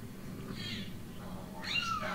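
Kittens meow inside a car in a Doctor Who scene, faint mewing cries that rise toward the end, with a low background hum beneath.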